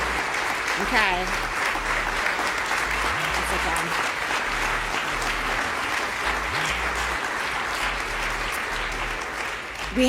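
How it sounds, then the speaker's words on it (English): Steady, full applause from a ceremony crowd honoring human rights awardees fills the room, a thick continuous wash of many hands clapping at constant loudness, with a brief voice near the start. "please join me in one more robust round of applause for all of our phenomenal"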